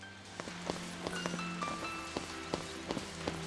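Rain falls in the Final Fantasy XIII video game, a steady soft patter with scattered sharper drops and faint tonal game music underneath, no talking.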